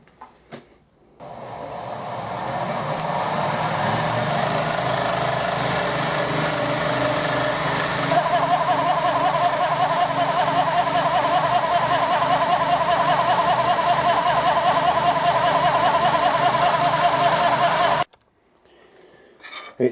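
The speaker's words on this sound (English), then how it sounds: "We'll do a plunge test going straight through." A carbide milling cutter plunges straight through soft material on a milling machine, producing a steady, close, high-pitched whirring drone that runs unbroken for about seventeen seconds before stopping abruptly.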